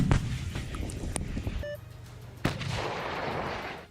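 Tank cannon shells fired in Ukraine: two heavy, sharp blasts, the second louder and followed by a long rumbling roar, with a short hum between them.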